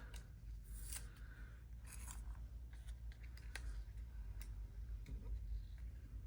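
Metal cutting dies peeled carefully up from paper in a craft card-making setup, giving several soft, close, thin scraping and clicking sounds spread across the span, with no talk.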